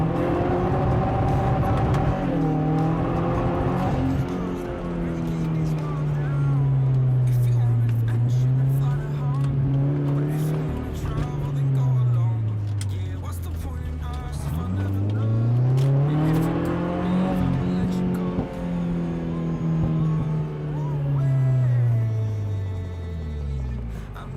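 A 2015 Subaru WRX engine running very rich drones and revs up and down for a long stretch, its pitch rising and sagging unevenly, with a rough, sputtering edge throughout.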